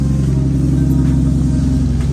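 Old Japanese-import Yanmar F165 four-wheel-drive tractor with a three-cylinder engine, fitted with a rotary tiller, running steadily at idle with a loud, even low rumble and no talk.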